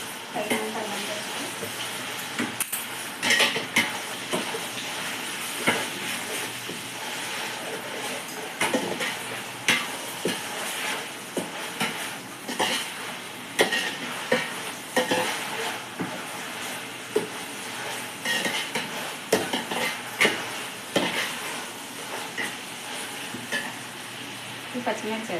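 Onion and ginger paste frying in a pan with a steady close sizzle and repeated scraping stirs, continuing for about twenty-five seconds with no voices.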